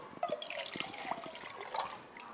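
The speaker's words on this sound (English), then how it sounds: "Now, we'll put this water into the cylinder." Water poured from a cone into a cylinder, a light trickle and splashy dripping with a few bright plinks, close and quiet.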